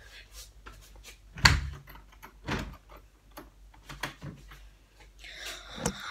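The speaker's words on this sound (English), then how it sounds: "now you can watch me lock the door" A house door is locked at night with a few sharp clicks and clunks of the latch and lock, close and quiet, separated by brief rustling, with no speech.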